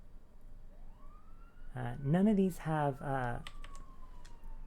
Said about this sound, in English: while this police siren passes